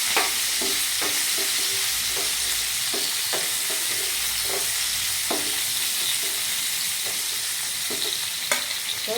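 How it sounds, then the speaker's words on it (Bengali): Chopped onions fry in a hot pan with green chillies, a steady sizzle broken by repeated scraping strokes of a spatula stirring them through the oil. "একটু নেড়ে নিই।"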